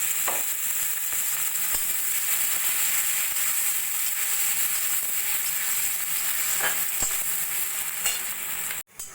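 Thinly sliced onions fry with a steady, loud sizzle in oil tempered with cumin, bay leaf and a dried red chilli, with a few faint clinks of stirring and no talk.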